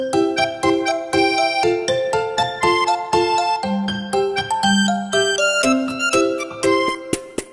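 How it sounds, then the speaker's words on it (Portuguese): A rapid series of bright, chiming bell-like tones plays a tinkling melody, each strike ringing briefly before the next, with no voices. "Um sino de ouro que faz um som."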